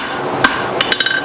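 A big 6-pound hammer forging metal hooks strikes hard and rings once, then delivers a quick run of four or five lighter, closely spaced blows, loud and close.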